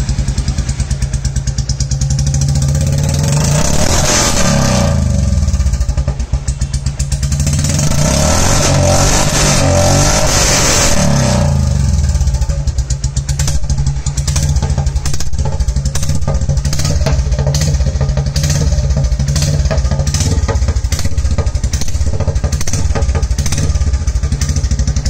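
A Royal Enfield Classic 350 engine revs hard through a loud aftermarket Punjab exhaust, rising roars giving way to a steady thumping idle, close and without talk.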